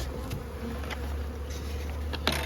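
Honey bees buzz steadily around the hives in an outdoor bee yard, a continuous close hum with individual insects flying past.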